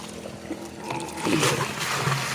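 Water gushes from the outlet of a water pump driven by a lawnmower engine, a steady close splashing rush of flowing liquid that swells slightly midway, with a low engine drone faintly underneath.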